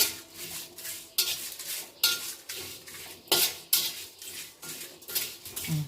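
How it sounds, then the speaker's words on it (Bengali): Spices dry-frying in a kadai, rhythmic scraping and stirring of a utensil against the pan every second or so, with a light sizzle beneath, no talk. "মশলাগুলো আমি ভেজে নিচ্ছি"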